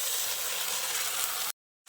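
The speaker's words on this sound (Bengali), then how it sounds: "কাঁচা লঙ্কাটা দিয়ে আরও কিছুক্ষণ ভেজে নিয়ে এবার আমি যে মশলার পেস্টটা তৈরি করে রেখেছিলাম সেটার মধ্যে দিয়ে দিচ্ছি" Masala paste with green chili frying in a pan for a cauliflower curry, giving a steady close, loud sizzling hiss that stops abruptly into silence.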